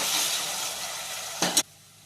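Steady sizzling of ginger garlic paste frying in hot oil, a continuous hiss that swells briefly near the end before cutting off.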